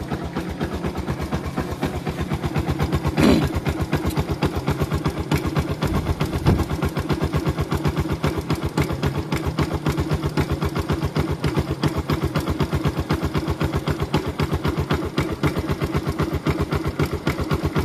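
A motorcycle engine idles steadily nearby, a continuous low rhythmic putter with a brief sharper knock early on, no talking.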